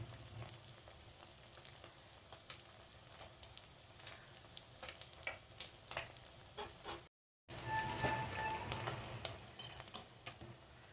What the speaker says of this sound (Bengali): দেখো বন্ধুরা, মাছ ভাজা হয়ে এসছে